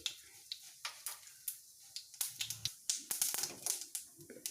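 Mustard seeds popping in hot oil in a pan, a rapid scatter of sharp crackles and pops that grow denser toward the end, fairly quiet, with no talk.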